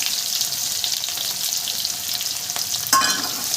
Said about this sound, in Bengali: পেঁয়াজটাকে আমি একটু লাল লাল করে ভেজে নেব